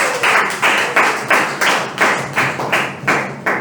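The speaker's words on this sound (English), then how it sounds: "Can we have a big round of applause?" An audience at a youth leadership meeting gives a round of applause, heard as about eight loud rhythmic pulses of clapping, evenly spaced and close by.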